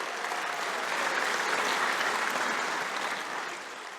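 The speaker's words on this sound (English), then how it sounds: "another round of applause for Marina Alefocio." Full, steady audience applause at a scholarship awards ceremony, a continuous dense patter of many hands that holds level and eases slightly toward the end.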